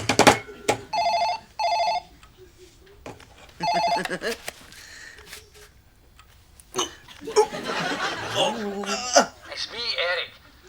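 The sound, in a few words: telephone ringing unanswered, from TV show Still Game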